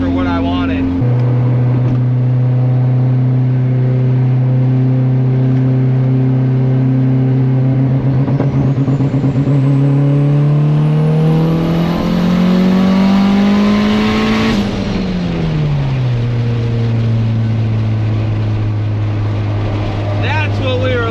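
A car engine with aggressive rolling antilag revs up loud and close, climbing steadily in pitch over several seconds, peaking, then dropping back to a rough idle, with popping and crackle mixed into the drone.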